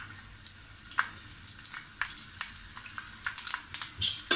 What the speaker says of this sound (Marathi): कांदा आपल्याला व्यवस्थितपणे तेलात भाजून घ्यायचं आहे